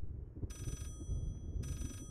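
A telephone rings inside the horror video game Layers of Fear, two bursts of a bright electronic trill separated by a pause, sounding moderately close over a low ambient rumble.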